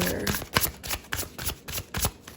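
Tarot cards are shuffled and handled in a quick series of riffling, flicking bursts, about eight close crisp card slaps and swishes in a loose rhythm, with no voices.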